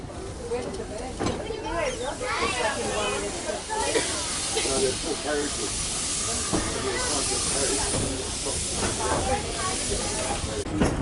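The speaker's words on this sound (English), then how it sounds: "And we're now departing Queenscliff. Chugging quite slowly at this stage." A steam train on the Bellarine Railway chugs slowly out of Queenscliff, with continuous hissing steam and rhythmic chuffs heard under someone talking throughout.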